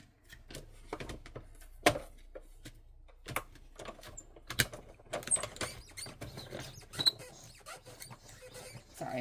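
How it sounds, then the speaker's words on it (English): Cardstock run through a die-cutting embossing machine: irregular close clicks, clacks and mechanical rattles, moderately quiet, with short ticking bursts and no talk. "And then I'll run it through the machine."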